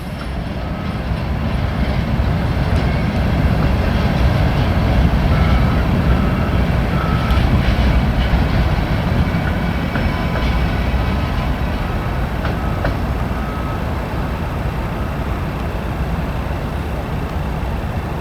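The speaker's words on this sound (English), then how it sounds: "That's the end of the train." A long train rumbles past with a steady, heavy roar and rattle of wagons, loud and close throughout, with faint squealing tones above the din.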